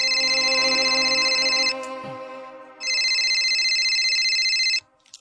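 A telephone rings loudly and close in two long electronic bursts separated by a short pause, then stops abruptly.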